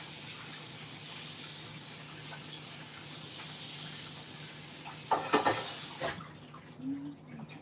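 Kitchen tap running while ham is rinsed, a steady hissing stream with a brief burst of splashing near the end, close and fairly loud with no clear talk.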